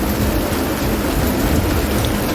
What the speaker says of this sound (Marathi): एवढा स्पीड होता पावसाचा आणि कडकडाट गडगडाट नुसता.